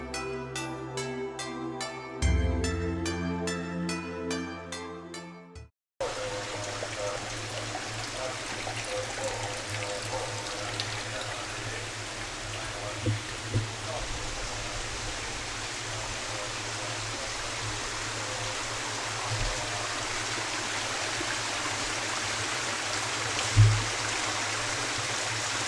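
A waterfall at Inunaki-san Shippo-ryu-ji temple in Osaka rushes with a steady, full roar of falling water. It follows a brief musical intro and runs unbroken and fairly loud, with no talking.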